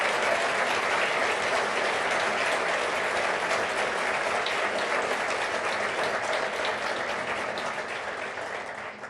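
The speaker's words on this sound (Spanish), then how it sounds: "quiero pedir un aplauso para nuestro ministro de Economía" An audience at a speech at Fundación Faro applauding the economy minister, sustained dense clapping across the whole stretch that fades slightly toward the end, with no talking over it.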